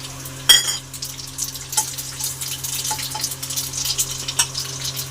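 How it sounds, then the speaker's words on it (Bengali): Nigella seeds and a dried red chili sizzle in hot oil in a wok, a sharp crackle bursting at first, then settling into a steady close fry with small pops and faint clinks over a low hum. "এবার আমি কড়াই তেল দিয়ে দিয়েছি আমি এবারে কালো জিরার একটা শুকনো লঙ্কা দিয়ে দিলাম"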